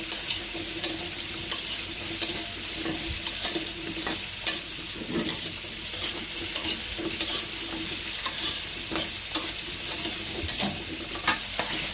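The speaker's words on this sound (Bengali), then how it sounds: "বড়িগুলো ভেজে নিচ্ছি একটু লাল লাল করে" Lentil dumplings (bori) frying in a pan, a steady soft sizzle punctuated by regular sharp scrapes and clinks of a spatula stirring, fairly quiet and without talk.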